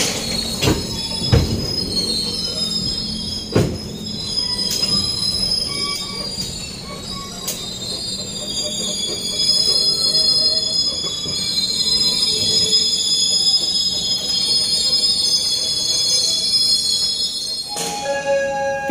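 Cibatuan local train pulling into Padalarang station at night and braking to a halt, with loud sustained high-pitched wheel squeal over rumbling cars, a few sharp clanks, and a brief hiss near the end.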